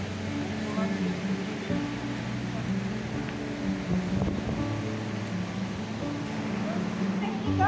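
Strong wind blowing at sea near a small fishing boat by a river mouth, a steady broadband rush with low rumbling engine or hull noise underneath, continuous and close to the microphone.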